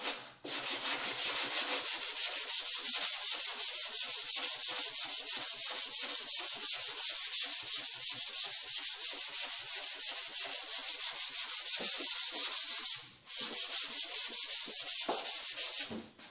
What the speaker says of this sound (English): A little bit of a chip here I'm going to have to sand through.